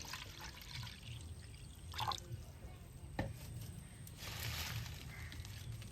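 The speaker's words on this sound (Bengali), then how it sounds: "পাতাগুলি আমি বেশ সুন্দর করে এখন জল দিয়ে ধুয়ে নিব।" Leaves being rinsed by hand in water for a village recipe, with soft splashing, dripping and sloshing in a few short bursts, fairly quiet and close.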